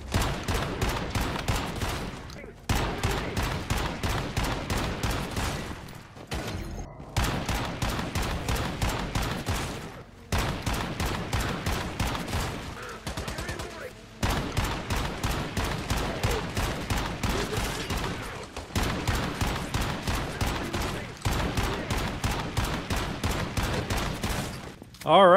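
Base shotgun in the video game Once Human blasting at enemies, a long run of loud, rapid shots in dense bursts separated by brief pauses, layered with busy game action.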